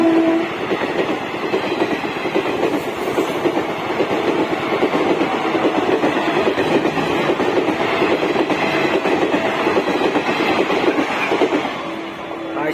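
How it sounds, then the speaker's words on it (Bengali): A train passing a level crossing, a loud, continuous rumble and rattle of wagons rolling by close at hand for the whole stretch, with steady clattering and faint background voices. "ভালো করে দেখবা ট্রেন আসছে।"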